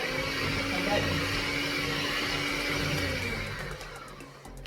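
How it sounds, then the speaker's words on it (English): Hand mixer beating pancake batter with sugar, a steady continuous whir held at a constant pitch for several seconds, close and fairly loud, easing slightly toward the end. "I'm just going to use my hand mixer to combine"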